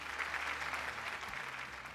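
Audience applause on a Malayalam TV game show set, a steady, fairly soft wash of clapping lasting a couple of seconds.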